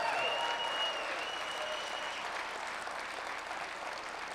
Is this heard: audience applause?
yes